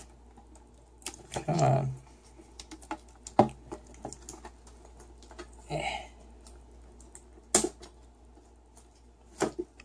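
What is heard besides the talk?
opening a sealed Pokémon card tin by hand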